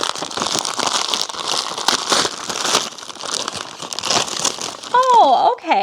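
Paper-wrapped challenge items are torn open from Rudolph the Red-Nosed Reindeer wrapping paper, a steady crinkling and tearing that runs throughout with voices talking over it. A brief sharper rustle comes near the end.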